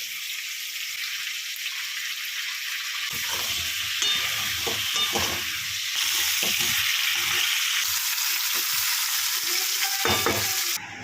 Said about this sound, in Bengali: আলুটা একটু লবণ, হলুদ আর কাশ্মীরি লাল লঙ্কার গুঁড়ো দিয়ে ভেজে নিচ্ছি।